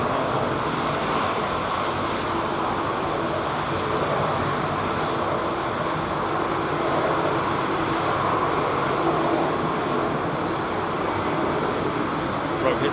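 Jet airliner departing London Heathrow, its engines a steady, loud, broadband roar that holds without break throughout, with a voice talking under the noise.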